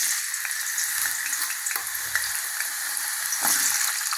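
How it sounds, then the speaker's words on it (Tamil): Chunks of elephant foot yam (karakarunai) fry in hot oil in a kadai, giving a steady close-up sizzle and crackle with a few soft stirring scrapes, and no voices. "எண்ணெயில் போட்டு நம்ம வறுத்து எடுத்துட்டு தாளிக்க வேண்டியதுதாங்க"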